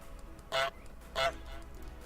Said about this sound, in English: That's enough, Goose.